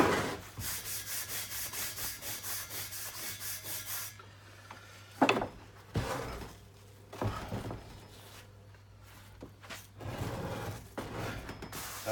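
Casting sand is scrubbed off cast lead ballast tiles up close: quick rhythmic rubbing strokes for about four seconds, then scattered individual rubs and scrapes at a quiet level.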